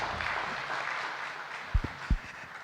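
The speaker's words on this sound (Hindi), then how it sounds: "तालियों की गड़गड़ाहट भी ये बता रही है।" Steady crowd applause at a Diwali celebration at Gyan Sarovar, a dense even patter that holds throughout, with a couple of dull low thumps near the end.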